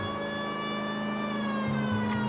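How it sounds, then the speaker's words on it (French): Police car siren in the video game L.A. Noire, a steady unbroken wail over a low rumbling car engine, loud and close. "La sirène."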